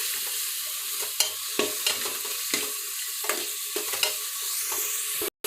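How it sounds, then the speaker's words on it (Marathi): Onion and tomato fry in oil for a pressure-cooker khichdi, a steady bright sizzle broken by regular scraping taps of a spoon stirring the pan. "कांदा टोमॅटो व्यवस्थित चांगलं परतून घ्यायचं"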